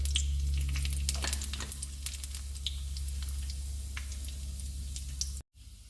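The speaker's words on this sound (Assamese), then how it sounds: "মোৰ জিৰা আৰু পাঁচফোৰণ ফুটিছেই।" Dried chillies, cumin and five-spice seeds sizzling in hot oil in a pan, a close crackling fry with sharp popping ticks as the seeds burst, no talking.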